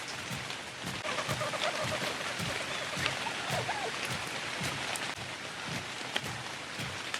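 Steady rain pours down in the Ark: Survival Ascended game on the Ragnarok map, a constant hiss of falling drops spattering on surfaces, moderately quiet, with scattered louder taps and no talking.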